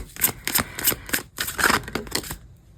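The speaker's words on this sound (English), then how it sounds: "I'm just going to shuffle first." Tarot cards shuffled by hand in a steady series of crisp riffling, flicking bursts, close and fairly loud, with no talking.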